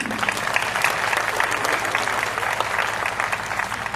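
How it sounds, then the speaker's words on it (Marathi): Sustained applause from a crowd, dense and steady clapping filling the whole stretch at an even, lively level. "आपण सगळ्यांनी एकदा जोरदार टाळ्या वाजवूया स्वतःसाठी"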